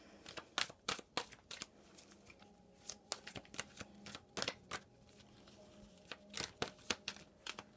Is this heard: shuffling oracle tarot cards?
yes